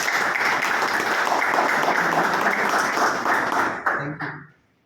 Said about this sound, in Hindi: मेरे लिए एक ताली बजा रहे हैं आप लोग